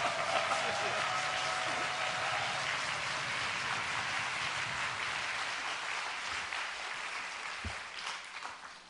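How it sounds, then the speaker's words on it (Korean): A church congregation at an evening revival meeting in Buyeo applauds and cheers to welcome a pastor to the stage: dense, loud, continuous clapping and shouting that fills the whole stretch and fades slightly near the end. "1등 환영 다 같이 박수와 함성과"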